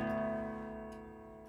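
A soft MIDI-synthesized chord from the opening of Mahler's Ninth Symphony sustains evenly and fades slightly, with faint ticking clicks in the background.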